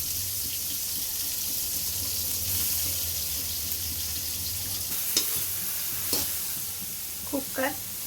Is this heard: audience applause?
no